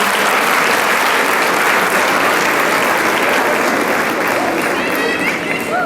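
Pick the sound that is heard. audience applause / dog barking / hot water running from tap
audience applause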